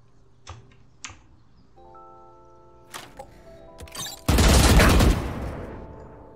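Shotgun blasts from the video game Valorant: a few sharp shots early on, then a loud, dense burst of gunfire near the end, with faint keyboard clicks and a steady background hum.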